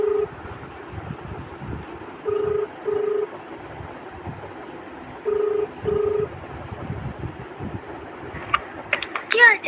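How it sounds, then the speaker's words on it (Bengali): A phone call is dialed: short dial or ringback tones come in pairs at steady intervals over faint background noise, with a burst of sharper clicks near the end. "আমি ফোন করি গাইস এবারে"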